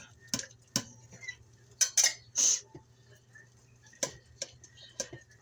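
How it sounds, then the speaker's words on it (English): A knife slicing meat on a cutting board at home: scattered sharp taps and short scraping strokes, fairly quiet and irregular, with no one talking. "I'm slicing this meat"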